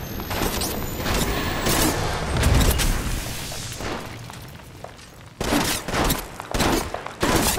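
Gunfire in the mobile video game Apex Legends Mobile: dense bursts of rapid shots and booming impacts, loud and close, with a brief lull before another volley of sharp repeated shots.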